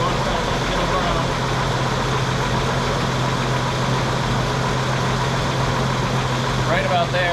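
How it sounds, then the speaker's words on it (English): A Jeep CJ/YJ engine idles steadily after a timing adjustment, a close, even rumble holding constant throughout, with a short faint warble near the end. "You can hear the idle smooth right out."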